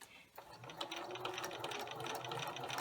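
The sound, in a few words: sewing machine stitching quilt binding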